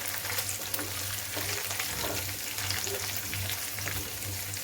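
Green chili and garlic fry with onion in a pan, a steady close sizzle with stirring scrapes running throughout.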